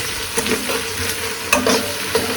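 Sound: meat roast being stirred in a pan

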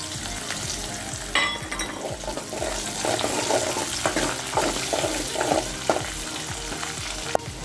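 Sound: onions and green chillies frying in a pan

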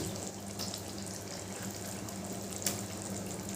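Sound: hot water poured into soybean kofta gravy

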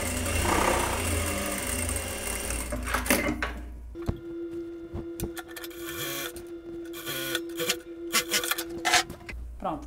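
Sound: overlock sewing machine stitching the side seams

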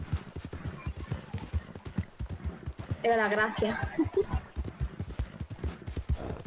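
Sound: horse hooves clip-clopping in a roleplay video game

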